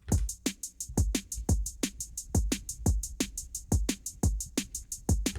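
Fast drum and bass beat at 175 BPM with punchy kicks, cracking snares and rapid bright hi-hats, a steady programmed groove, loud and close with no voices.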